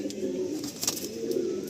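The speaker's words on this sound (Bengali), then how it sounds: "টাটিরা পায়রা, খুব রেয়ার পায়রা।" Tatira pigeon, a rare breed, cooing in repeated low, throaty phrases close by, with faint voices and background noise.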